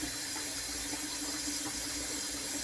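Water runs steadily from a tap into a slow-draining sink, a constant close rushing hiss with no pauses or voices.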